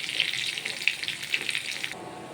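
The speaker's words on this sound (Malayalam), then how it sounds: "നെയ്യൊഴിച്ച് കടുവിട്ട് ഉള്ളി, ഇഞ്ചി, പച്ചമുളക്, കറിവേപ്പില, അണ്ടിപ്പരിപ്പ് ഇതെല്ലാം ഇട്ട് മൂപ്പിച്ചിട്ട്" Mustard seeds, onion, ginger, green chillies, curry leaves and cashews frying in ghee for Kerala-style rava upma crackle and sizzle briskly up close, then cut off abruptly near the end.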